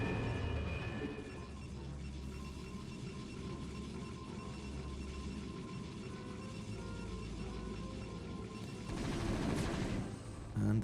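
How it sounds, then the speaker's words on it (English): Defensive cannons firing in a StarCraft match, a dense continuous rattle of rapid gunfire-like blasts that swells louder toward the end, with no talk over it. "The cannons should do the job."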